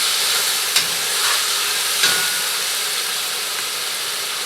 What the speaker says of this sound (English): Ooh, that's boiling again.